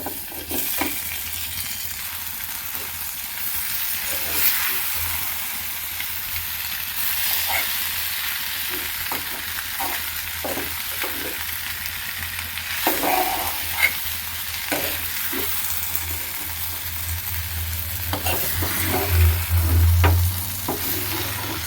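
Tapioca being stir-fried in a pan, a continuous close sizzle broken by repeated scraping and stirring knocks of the spoon over about twenty seconds, with no one speaking.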